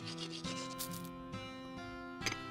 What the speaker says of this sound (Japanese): 歯を磨いて。